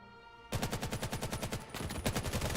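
Rapid, rhythmic gunfire in the VR shooter VAIL during a competitive match, a dense burst of repeated shots that starts abruptly and keeps a steady pulsing rate, loud and close.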